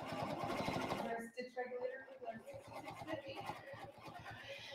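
A Janome Continental M8 sewing machine stitching steadily with a rapid mechanical whir and needle chatter, pausing briefly before resuming, while someone talks over it.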